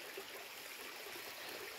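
A stream flows steadily along the Rio Canta trail on the Sentiero 59B woodland path near Superga, making a soft, continuous broadband rush of water at moderate distance with no other sounds over it.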